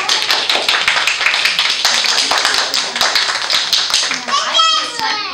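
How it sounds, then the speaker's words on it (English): Clapping at a child's birthday party, uneven and close, mixed with children's voices and chatter, ending in a brief high-pitched vocal sound. "I'll give her a wonderful round of applause"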